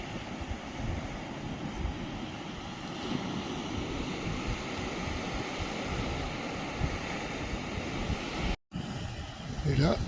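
Steady broadband wash of Mediterranean surf beside cliffs near Nador, Morocco, a continuous mid-distance roar of waves with wind, unbroken except for a brief dropout near the end.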